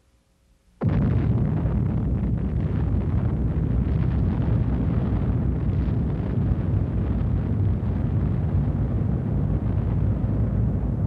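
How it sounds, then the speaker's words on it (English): Deep, continuous roar of the first hydrogen bomb test at Eniwetok in 1952, starting abruptly after a brief quiet and holding as a loud, dense, unbroken rumble to the end. "The first hydrogen bomb test."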